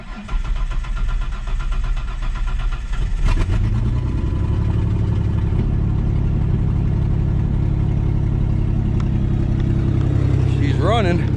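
A Red Ranger UTV engine, just through a top-end overhaul, cranks and catches after about three seconds, then runs steadily at a loud, rough idle that holds to the end, with a small rev near the close.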